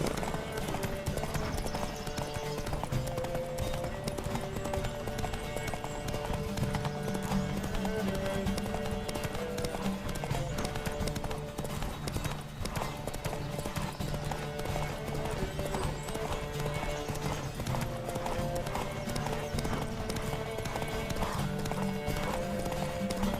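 Rapid clip-clop of horse hooves galloping steadily throughout in a Witcher video game with Geralt, with an occasional whinny, layered over a loud, busy background of music and effects.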